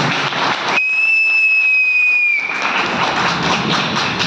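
An audience at a network-marketing motivational speech bursts into clapping, cut into by a loud, shrill whistle held steady for about a second and a half, then the dense applause resumes and carries on to the end.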